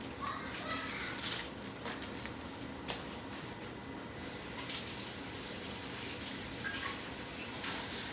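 Food rinsed under a running kitchen tap makes a continuous hissing splash of water that runs steadily throughout, with faint voices and children audible in the background.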